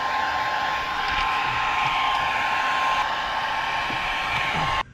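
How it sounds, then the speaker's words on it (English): A hair dryer blows steadily with a constant whining hum and airy rush, used to heat a black rubber boot on a riding mower wheel, then abruptly switches off near the end. "pop off the black rubber boot with a hairdryer or heat gun"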